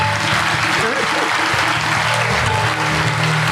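An audience at a Swaminarayan religious gathering claps steadily and loudly throughout, while a voice speaks over the applause.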